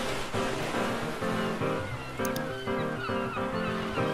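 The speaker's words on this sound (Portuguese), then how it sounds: "Olha isso daqui de praia." Beach waves from a music production plugin's sound library wash in a continuous, dense surf hiss with musical tones layered underneath.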